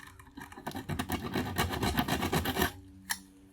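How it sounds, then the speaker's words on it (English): A metal file rasps across stainless steel from a scrapped clothes iron, a quick series of rough back-and-forth scraping strokes, close and fairly quiet, ending with a small clink. "the way I can tell is the file, it just skips over the surface. It doesn't actually grind into the metal"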